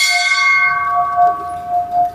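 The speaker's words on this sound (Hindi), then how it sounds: "घंटियां बज रही हैं" Temple bells ring at a Navagraha Shanti temple in Shukartal, one clear metallic strike with a long, fading resonant tone, close and alone without voices.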